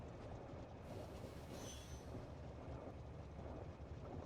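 A train rolls along rails in the video game Factorio with a steady mechanical rumble and a brief squealing whine midway, moderately loud and continuous throughout.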